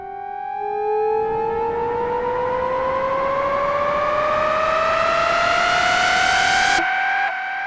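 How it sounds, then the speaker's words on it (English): Three detuned synth oscillators in an EDM transition effect, phasing against each other while an LFO slowly pushes their pitch upward, form a loud, continuous rising whine that cuts off abruptly near the end. "let's go ahead and listen to what all 3 of these oscillators are sounding like together"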